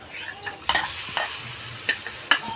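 Prawns go into masala frying in a pan, giving a close, steady sizzle broken by several sharp scraping stirs of the spoon against the pan.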